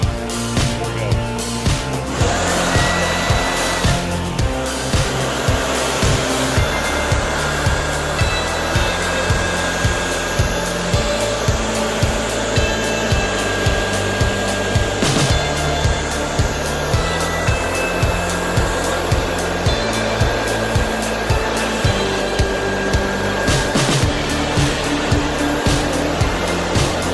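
A forced-air leaf blower fitted with a prototype nozzle roars steadily into a burn chamber, loud and continuous throughout, with the blast of air and fire dominating.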